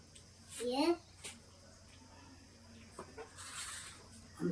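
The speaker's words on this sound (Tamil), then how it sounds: "கோழிங்க." Chickens at a village temple celebration give a few short clucks near the start, with people and someone talking around them and quieter background bustle.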